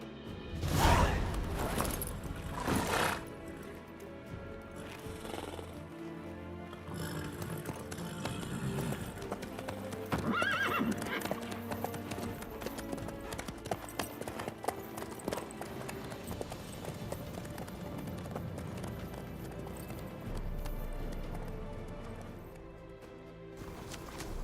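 Horse hooves clip-clop in a steady rhythm through The Witcher 3 video game, with occasional whooshes and mechanical sounds mixed in, and brief bits of game dialogue.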